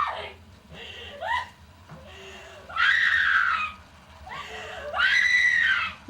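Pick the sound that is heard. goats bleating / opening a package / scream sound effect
scream sound effect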